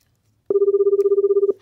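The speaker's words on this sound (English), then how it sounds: "Oh, my phone." One loud, close burst of an electronic telephone ring: a rapid pulsing trill lasting about a second after a quiet start, heard on its own.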